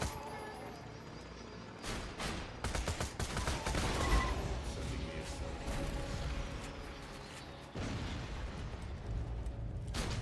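Bursts of gunfire in the Borderlands 2 shooter, fairly quiet and mixed into game noise, with a cluster of quick shots and a muffled boom partway through before the action settles to a steady rumble.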